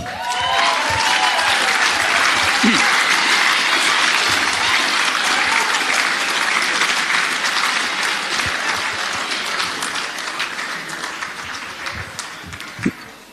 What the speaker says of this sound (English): Another big round of applause for Megan McDonald with 62